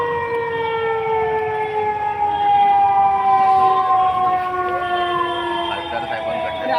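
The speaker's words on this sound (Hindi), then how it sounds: "आपण पाहताय आता सायरन वाजतोय," A loud siren wails steadily during a disaster-preparedness mock drill at a ground in Thane, its pitch slowly rising and falling over several seconds, with faint background noise beneath.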